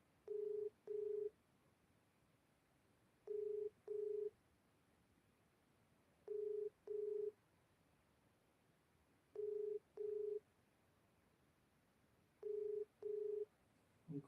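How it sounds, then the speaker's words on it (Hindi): A phone call rings out: steady double-pulse ringback tones repeat at even intervals of about three seconds, clear and quiet, with no voices over them. "फिर से लगाओ एक बार फोन"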